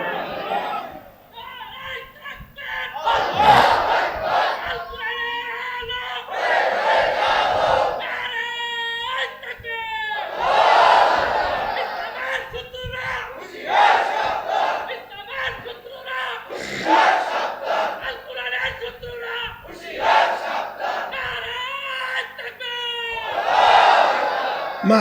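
At a Bengali religious gathering, a large crowd roars 'Allahu Akbar' back in answer to a leader's call of Nara-e-Takbir. The loud collective shouts swell and fade several times, with the leader's voice heard between them.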